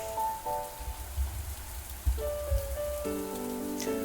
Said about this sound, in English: The droplets made loud sounds as they hit the ground.